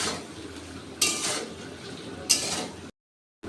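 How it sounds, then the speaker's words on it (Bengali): Cashews and raisins fry with vegetables in a pan, giving a soft continuous sizzle broken by two bursts of scraping stirring, then a brief silence. "এই সবজির সাথে কাজু কিশমিশটাকেও ভালো করে ভেজে নেব।"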